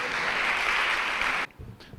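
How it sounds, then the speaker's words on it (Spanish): A church congregation claps in a brief, dense burst of applause that cuts off sharply, followed by a faint voice and low murmur. "Dele un aplauso al Señor."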